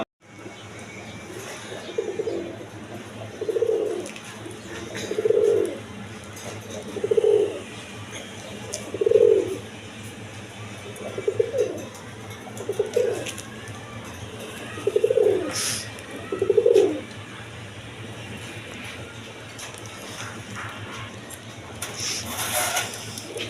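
A pair of Bombay pigeons coos in about ten low, evenly spaced phrases over steady background hum, close and moderately loud, with no talk.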